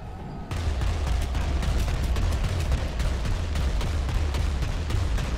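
Enemy gunfire in a video game, a dense, continuous stretch of rapid shots and booming impacts that kicks in abruptly after a brief quiet start and keeps up at a loud, steady level.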